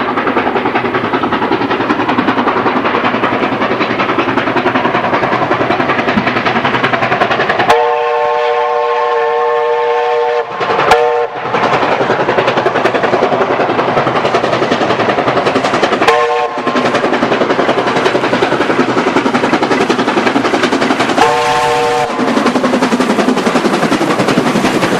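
A train on the Feiku branch heading for Diaobingshan rumbles steadily with loud rolling noise and sounds several long horn blasts, the first lasting a few seconds and shorter ones following, with no talk.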